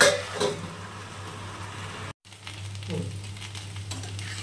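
Kundri (ivy gourd) frying with onion and chillies in a pan gives a steady, close sizzle with occasional stirring scrapes, broken by one brief silent gap before the crackle resumes.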